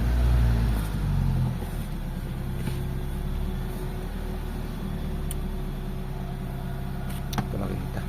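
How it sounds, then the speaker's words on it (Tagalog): Honda FD Civic engine cranking and catching, a loud rumble at first that settles into a steady low idle hum, close by, with faint clicks over it. "Ito, start natin yung engine mga bossing."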